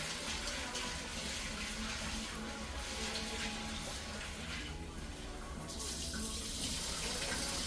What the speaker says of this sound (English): So we just wash our beans here